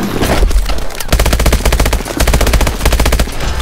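Rapid automatic gunfire from Call of Duty: Advanced Warfare, a loud continuous burst of machine-gun shots with brief gaps, close and dense, with bullets whizzing past.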